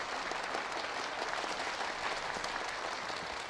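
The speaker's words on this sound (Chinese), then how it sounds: "让我们用热烈的掌声，有请出我们本次电影的主创登台和大家见面" Warm, steady applause from an audience welcoming a film's creators onto the stage at a premiere event, a dense continuous clapping that holds at even loudness throughout.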